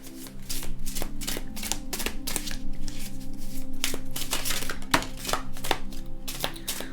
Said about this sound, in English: So we need to draw a few more cards to see what happens to that.